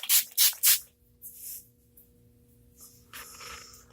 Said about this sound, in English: I'm just going to spray my face with some of this Australis Makeup Finishing Spritz Matte Setting Spray.